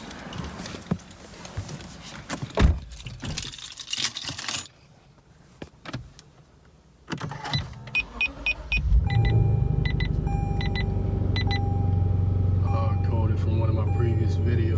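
Lexus RC F starting off: clatters, clicks and handling noises first, then a steady low engine rumble with a faint whine takes over and holds evenly to the end.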